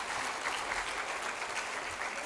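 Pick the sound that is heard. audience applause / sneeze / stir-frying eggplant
audience applause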